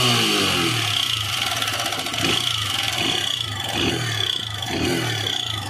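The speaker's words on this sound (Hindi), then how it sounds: "देखिए जैसे हम थोड़ा टोटल देंगे तो खटखट का साउंड आएगा।" A Hero Honda Star City Plus 110 motorcycle runs steadily with a timing chain fault, its engine drone carrying a persistent rattling knock that continues alone, without a pause or break, throughout.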